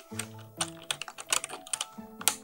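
Yellowed keycaps are pried off a computer keyboard, producing a quiet, close series of sharp, irregular plastic clicks and snaps, with a faint tonal hum at the start and end.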